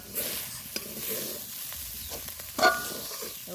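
Vegetables fry and get stirred in a kadai for flattened rice (chire) pulao, a steady close sizzle broken by scraping stirs and one louder clatter near the end, with no talk.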